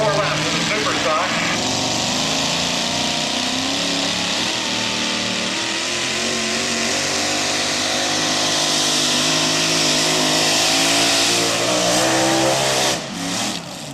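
Super stock tractor pulling vehicle at a truck and tractor pull, its engine roaring loud and sustained at high revs for the whole stretch, with an announcer talking over it.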